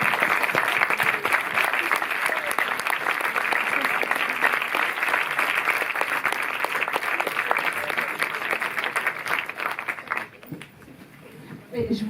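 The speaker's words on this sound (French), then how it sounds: "Si on pouvait vous lever, qu'on vous applaudisse" Audience applause in a cinema at a film premiere, a dense sustained roar of many hands clapping at fairly high level that thins out near the end, with speech over it.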